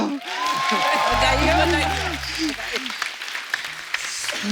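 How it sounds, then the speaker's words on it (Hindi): Studio audience applause on a TV comedy show, a loud, dense clapping wash filling the whole stretch, with a speaking voice and a brief musical tone rising over it in the middle. "जोरदार ताली, बधाई हो।"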